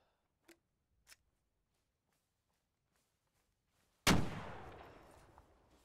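A single close, loud gunshot booms in a space strategy video game and rings out in a long decaying tail, preceded by two faint, brief clicks.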